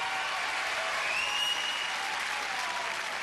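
Crowd applause at a 1992 Gladiators event in the UK, a steady, dense roar of clapping from a large audience that holds at an even level throughout, with faint whistles over it.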